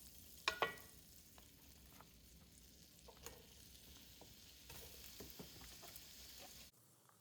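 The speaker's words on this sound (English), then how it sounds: "I'm gonna melt that along with the onion and let the onion get nice and soft" Butter and onion fry softly in a pan, a faint, steady sizzle with a couple of brief clattering stirs near the start, quiet and close, cutting off at the end.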